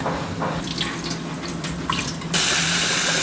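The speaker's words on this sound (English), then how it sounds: "We have to wash the rice," Tap water runs into a sink while rice and black gram beans are washed, a steady splashing stream that becomes a louder, fuller gush partway through, close and alone.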